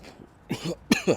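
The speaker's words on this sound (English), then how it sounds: "If I start coughing, you know why" A few short coughs close by, three or four quick bursts in a row.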